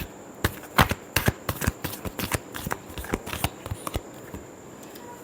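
Tarot cards being shuffled by hand, a run of crisp riffling flutters and soft slaps in an uneven rhythm, close and clear, with no talking over them.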